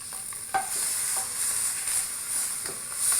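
Lamb shanks searing in a pot for a slow braise, a loud continuous hiss and sizzle with an occasional clank of utensil on metal.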